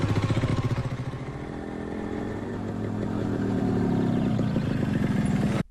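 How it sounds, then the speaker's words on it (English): Motorcycle engine running steadily as the bike rides along a remote road in a Bollywood film, a continuous loud drone with rising pitch toward the end before cutting off abruptly. "riding her bike along the same road in the middle of nowhere"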